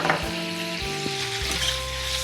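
Mutton frying with ginger-garlic paste in a pan for biryani, a steady close sizzle with faint stirring, alone with no talk.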